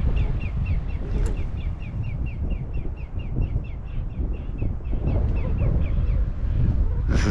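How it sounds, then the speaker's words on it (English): Wild crows caw in repeated short calls outdoors by a lake along the Rio Grande in New Mexico, moderately distant over steady wind or water noise. "All sorts of wild birds out here."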